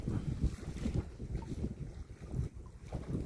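Cold wind blows across an open waterside setting, buffeting the microphone in loud, gusty rumbles that rise and fall steadily with no voices.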